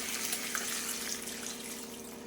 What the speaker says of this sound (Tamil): இப்போ காயெல்லாம் கொஞ்சம் எண்ணெயில் வதக்கினதுக்கப்புறங்க தேவையான அளவு தண்ணி ஊற்றிக்கலாம்.